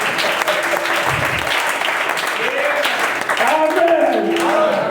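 A church congregation claps and applauds in praise, a dense, sustained wash of clapping with voices calling out over it throughout.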